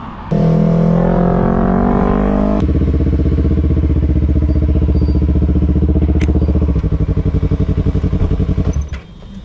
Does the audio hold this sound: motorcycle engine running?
yes